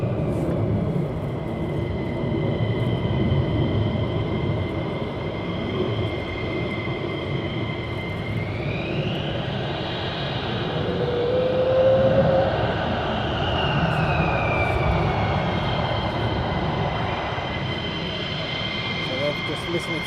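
F-35 Lightning military jets departing RAF Lakenheath, a broad continuous roar of distant jet engines swelling and fading over twenty seconds, with faint rising and falling whine tones.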